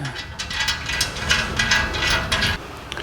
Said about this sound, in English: So out come the bolts that hold the radiator in.